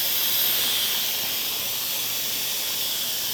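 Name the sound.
Instant Pot pressure release, steam hissing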